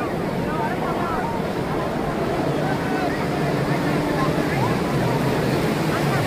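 Sea waves break on the beach at Cox's Bazar at sunset, a steady, loud surf roar that fills the whole stretch, with people talking over it.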